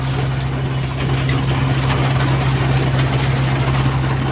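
A tractor engine runs steadily at an urad bean threshing site, giving a loud, close, low droning hum with constant mechanical rumble and no breaks.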